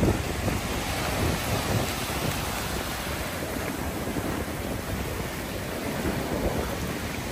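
Ice-cold water poured over a child's head during a holiday outing, a steady rushing splash with a broad hiss that continues for the whole stretch, with no talking.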